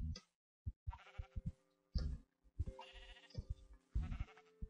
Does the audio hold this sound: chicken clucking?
no